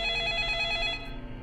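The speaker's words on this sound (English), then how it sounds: "sudden ringing of the phone startled everyone in the room." A telephone rings in the video game 428: Shibuya Scramble, a steady electronic bell trill heard clearly and alone for about a second before cutting off.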